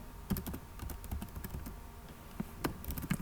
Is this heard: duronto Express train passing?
no